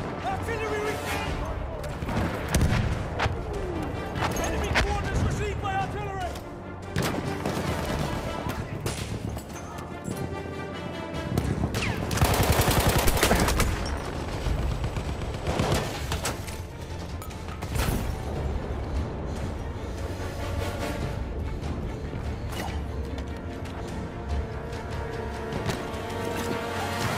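Heavy booms of artillery fire and scattered gunshots crash through a Battlefield 1 Frontlines defense at St Quentin Scar, loud and dense for the whole stretch, with a particularly violent blast midway and radio-style voices calling out over the din.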